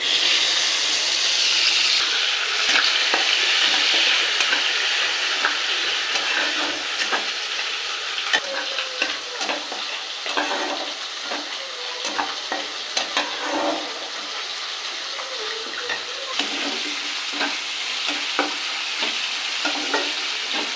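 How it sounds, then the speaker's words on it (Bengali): Onion paste frying in hot oil after a cumin tempering for a Katla fish kalia, a steady close sizzle with frequent scraping stirs and crackles, loud at first and easing slightly, with no talking. "তেল গরম হয়ে গেছে এবার দিয়ে দেবো জিরে ফোড়ন এবার দিয়ে দেবো পেঁয়াজ বাটা"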